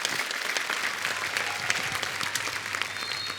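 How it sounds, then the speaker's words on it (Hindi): Studio audience at a television comedy show applauding a guest's arrival, a steady, full wash of many hands clapping at moderate distance. "आप सबकी जोरदार तालियों में स्वागत करना चाहूंगा"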